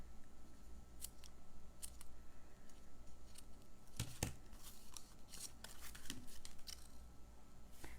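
Scissors trim a paper craft decoration in a quiet room. A scattered series of crisp snips and clicks sounds close by and alone, with no talking.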